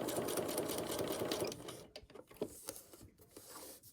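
A sewing machine stitches a quilt block seam for a mini block-of-the-month project, running as a steady, rapid mechanical whir for about a second and a half before stopping. Lighter handling clicks and taps follow.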